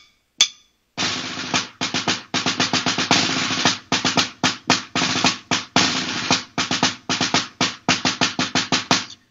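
An orchestral snare drum plays a pattern of crisp rolls and accented strokes, loud and close, with rhythmic bursts and brief gaps between phrases.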